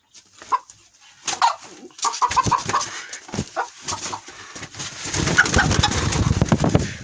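Chickens cluck and squawk close by in bursts, with a rooster's agitated calls and rustling flapping building into a busier commotion toward the end.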